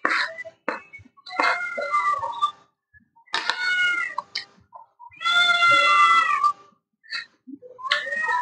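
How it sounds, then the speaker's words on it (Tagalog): A pet cat meows repeatedly indoors, with loud drawn-out cries separated by short pauses, close and clear with no talk. "Meron po akong background. Yung alaga ko pong pusa."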